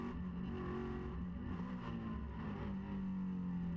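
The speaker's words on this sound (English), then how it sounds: "Let's go on board then with Alberto Cola in fourth place." Onboard a Maserati Trofeo race car at the Shanghai circuit, the engine drones loud and continuous, its pitch shifting as the car accelerates and eases through the corners.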